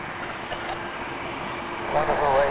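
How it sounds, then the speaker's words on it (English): A WestJet Boeing 737-800 airliner at Toronto Pearson airport produces a steady, broad jet engine roar that swells slightly toward the end, with a voice talking over it. "445 to Edmonton, 737-800"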